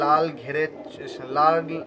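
Fancy breed pigeons, including a small biscuit-coloured fakir-type bird, cooing in a few soft rolling phrases close by, with a person talking over them.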